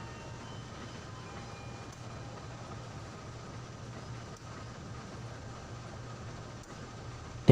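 A train in the Trainz railway simulator game pulls away on an Indonesian line, a steady low rumbling drone with faint rolling noise, constant and fairly quiet, ending in a short louder burst.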